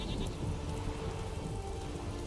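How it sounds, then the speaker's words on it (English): A flock of sheep bleats in The Witcher 3 game world, soft overlapping calls under a steady rain-like wash of ambient noise, with no talking. "Well, that's a lot of sheep."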